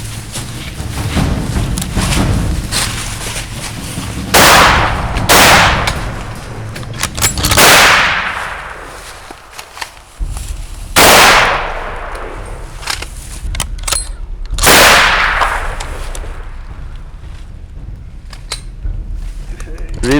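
Rifle shots fired during a cape buffalo hunt in Chewore South, Zimbabwe, several loud sharp cracks spread across the bush, with voices calling out between the shots.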